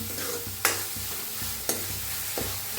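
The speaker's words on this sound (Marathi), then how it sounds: "छान मसाला भाजलाय बघू शकताय तुम्ही" Masala roasting for sambar sizzles steadily in a hot pan while being stirred, with a few sharp scraping clinks of the spoon against the metal, close and continuous with no talking.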